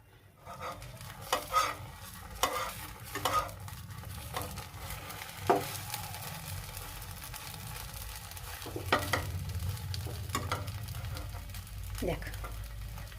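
Patisapta pancakes frying in a pan, a soft sizzle under intermittent scraping and clattering of a spatula, with a low hum throughout.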